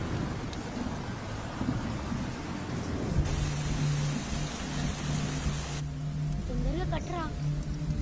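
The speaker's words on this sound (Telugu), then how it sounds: "వర్షం ఇప్పుడప్పుడే తగ్గేలా లేదు" Heavy rain pours steadily as a dense wash of noise, with low thunder rumbling beneath it, while people talk nearby.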